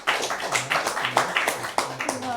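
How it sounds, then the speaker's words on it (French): A small audience claps in a light, uneven patter, individual claps distinct and spaced, with voices talking and cheering over them throughout. "On l'applaudit très fort."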